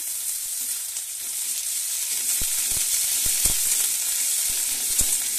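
Ginger paste sizzles steadily in hot oil in a pan while fish kalia is cooked. The frying hiss stays close and continuous, with a few sharp clicks as the paste is stirred.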